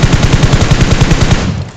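Rapid automatic gunfire from a weapon with a red dot sight in PUBG Mobile, played on an ASUS ROG Phone 2: one loud, tightly spaced burst of evenly repeating shots that cuts off abruptly, with no voices.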